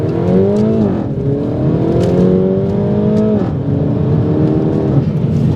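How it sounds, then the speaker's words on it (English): A Mini Cooper S accelerates hard, its engine note climbing steadily through the gears with rising pitch, a brief drop at each upshift, loud and close from inside the car. "Driving the Mini Cooper S. I'm expecting Golf GTI performance."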